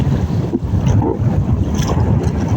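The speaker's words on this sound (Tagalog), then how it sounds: "dahil malakas yung hangin" Strong wind buffets loudly and continuously over open water while a net is set from a boat, a rough, gusty rush with some water noise beneath it.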